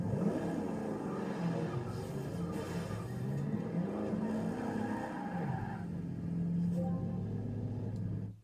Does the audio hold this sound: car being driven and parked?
yes